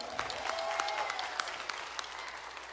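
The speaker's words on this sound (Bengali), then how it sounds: "একটা জোরে হাততালি হোক।" An audience claps in a steady, dense burst of applause at a live Bengali music concert in Toronto, moderately distant and sustained without pause.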